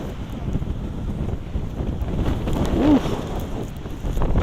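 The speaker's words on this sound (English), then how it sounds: "Windy as hell up here." Strong wind buffets a microphone outdoors at a high spot on Coney Island, New York City, making a loud, continuous rumbling roar with gusty swells and no clear speech.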